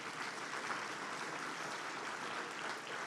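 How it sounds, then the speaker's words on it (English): An audience at a county workplace awards event applauds the Heart Safe Workplace Award; a continuous wash of clapping from many people, even and steady in loudness for the whole span. "We can give a round of applause for that"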